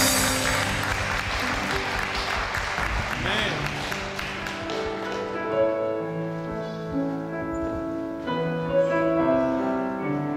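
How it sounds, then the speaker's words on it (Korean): A church congregation at a Sunday worship service claps loudly for several seconds, and the applause thins out as worship music with singing rises and carries on alone. "다시 한번 주님의 이름 앞에 큰 박수 올려드릴까요?"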